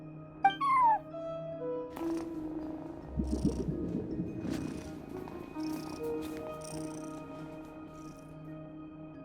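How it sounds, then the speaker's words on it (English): A cat at a front desk in the video game Genshin Impact gives a short, close meow early on. A quiet ambient game soundscape with faint soft tones follows. "cat watching over the front desk."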